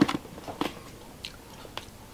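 Crunchy roasted pork lechon skin is bitten and chewed close up during a Filipino family meal, a few sharp crisp cracks followed by softer crunching, fairly quiet with no talk.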